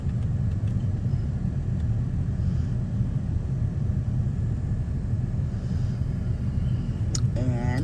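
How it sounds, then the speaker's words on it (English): A truck idling and rolling off a scrap yard weighing scale: a steady, close low engine rumble that continues throughout, with a faint high chirp near the end. "We drive over off the scales and to the office over here"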